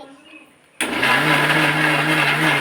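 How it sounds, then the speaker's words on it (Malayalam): A kitchen mixer grinder whirs into life after a quiet start, blending mango with sugar and milk into juice; the steady loud motor drone runs on without pause once it starts. "അത് അടച്ചിട്ട് മിക്സിയിലിട്ട്"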